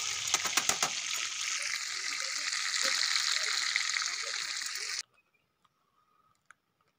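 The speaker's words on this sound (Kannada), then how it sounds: "ಈಗ ಇದು ಒಂದು ಸೈಡು ಬೆಂದಿದೆ, ಹಾಗೆ ನಾನು ಇದನ್ನು ತಿರುಗಿಸಿ ಹಾಕಲು ಇನ್ನೊಂದು ಸೈಡು ಬೇಯಿಸ್ಕೊಳ್ತಿದ್ದೇನೆ" Murumeen fish frying coastal style in a pan, a steady broadband sizzle with a few sharp clatters early on, running for about five seconds before cutting abruptly to near silence with faint scattered ticks.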